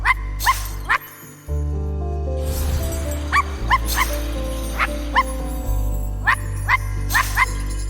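A dog character in the video game I Am Dead barks in short, sharp, evenly spaced yips over a steady low game soundtrack, clear and close throughout.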